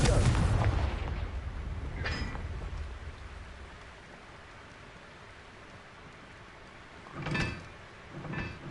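Confringo spell blasts go off in Hogwarts Legacy, a loud fiery burst at the start that fades, then two later, softer sharp cracks with brief rumbles.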